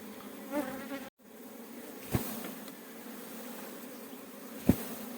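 A swarm of honey bees buzzes in a steady close drone, broken by a couple of brief knocks and handling thumps nearby.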